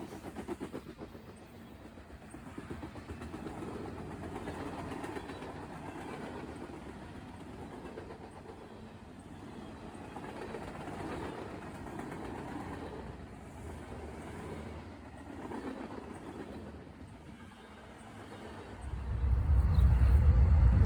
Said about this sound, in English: M566 is mixed freight from Chicago, Illinois, and heads to Cleveland, Ohio Commonwood Yard.